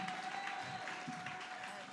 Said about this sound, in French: on peut acclamer, on peut acclamer